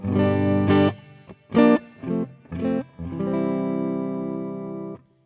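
An overdriven electric guitar through a Tonex Matchless amp model plays a few short chords, then lets a final chord ring out and sustain for a couple of seconds, alone.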